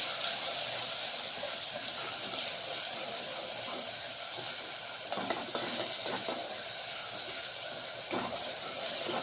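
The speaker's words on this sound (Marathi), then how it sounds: "त्याला थोडं होऊ द्यायचं तेलामध्ये टमाटरला" Tomato paste cooking in hot oil in a pan for sev bhaji, a steady moderate sizzle and hiss with a few brief stirring scrapes and clicks, no one speaking.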